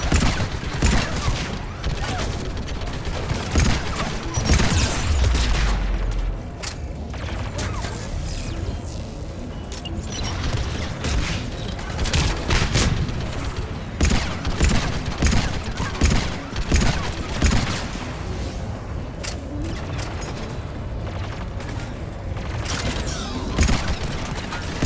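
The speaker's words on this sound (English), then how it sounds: "Mounted turret." A mounted turret blasting away in the sci-fi shooter Mass Effect 3, a continuous loud barrage of rapid shots, crashes and mechanical clatter throughout, with occasional voices underneath.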